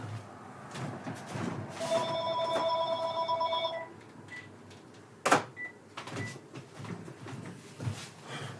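A landline telephone rings in a room, a steady electronic ring lasting about two seconds, then a clunk and some handling sounds after it stops; no voices over it.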